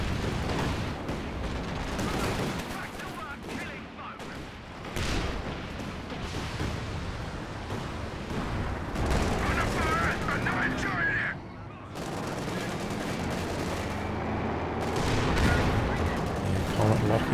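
Artillery barrage in the real-time strategy game Company of Heroes 2, repeated booming shell impacts and gunfire rumbling across a 2v2 battle, under continuous commentary talk.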